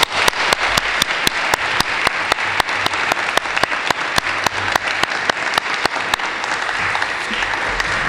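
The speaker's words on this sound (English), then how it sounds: "So a big round of applause to all those people I mentioned" Loud, dense applause from a crowd at a school winter athletic assembly, steady and sustained for about eight seconds with sharp rhythmic claps standing out, easing slightly toward the end.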